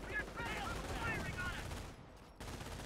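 Machine gun fire in Company of Heroes, a dense, steady rattle of gunfire in a 1v1 battle between US and Wehrmacht forces, with a commentator talking over it.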